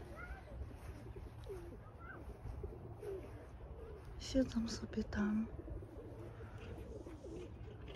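Pigeons coo softly from a small farm dovecote built like a little house on a chicken leg, low murmuring coos surfacing briefly amid outdoor background noise and quiet talk.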